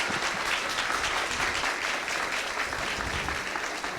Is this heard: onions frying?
no